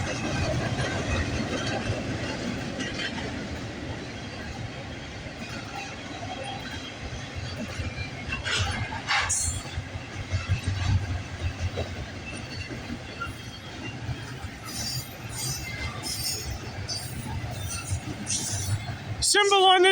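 A Canadian Pacific freight train, symbol CP119 from Montreal to Edmonton, rumbles steadily past at close range with rail noise and brief wheel squeal, holding a constant roar throughout.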